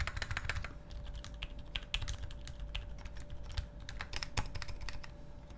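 Soft, muted keystrokes from a custom Runepoker U60 keyboard fitted with Cherry silent red switches, typed in quick irregular bursts with a few slightly louder spacebar-like taps, close up over a low steady hum.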